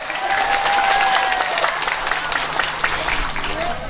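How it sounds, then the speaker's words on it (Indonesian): Lively applause and crowd noise at a Nahdlatul Ulama religious gathering, honouring the Muslimat women's group, a thick wash of many hands clapping together with a faint tone running beneath. "Tepuk tangan untuk muslimat."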